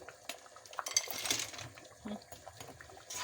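Frozen cooked dried beans go into a cooking pot, producing faint, scattered clinks and clatters of dishes and utensils with a soft wet tumble, close and quiet.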